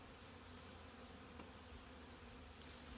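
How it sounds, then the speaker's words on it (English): Faint, steady buzzing of a honey bee swarm of about three pounds, a continuous low drone with no talking. "More bees."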